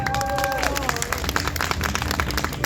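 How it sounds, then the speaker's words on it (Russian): Audience applause at an opening ceremony of a regional Abilympics championship in Tatarstan, dense sustained clapping from a hall crowd with a few tonal notes early on, steady and fairly loud throughout. "Замечательно, когда праздник начинается именно так, музыкой и аплодисментами."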